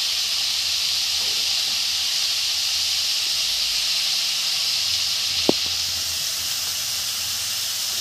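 Bengali five-spice (panch phoron) with salt and turmeric frying in hot oil, a steady close sizzle and hiss throughout, with one brief sharp tap midway.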